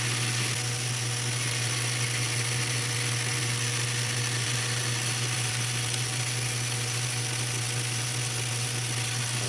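Power tool spinning a brass bolt held in its chuck, a continuous steady motor whine with a strong low hum, running evenly with no pauses.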